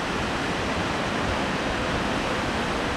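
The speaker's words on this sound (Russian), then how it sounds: "Волны. Познаем море." Broadband roar of sea waves on Jurmala beach in April under a strong wind, a steady, loud, unbroken wash of surf with no distinct breaks and no voices.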